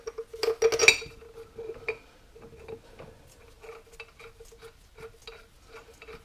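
Small metal bolts threaded by hand into the hydraulic reservoir of a Farmall Super M tractor during a rebuild: a cluster of sharp metallic clinks near the start, then scattered light taps and scrapes, close and fairly quiet.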